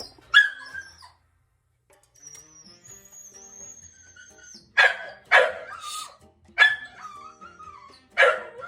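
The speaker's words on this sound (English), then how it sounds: "my dog is going to be barking because she wants this salmon" A dog barks and yips several times nearby for salmon, sharp and high, with a quiet stretch and a faint whine between bursts.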